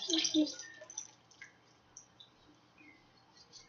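A brief splash of chicken noodle soup pouring into a container, followed by faint drips and soft trickles in a quiet room.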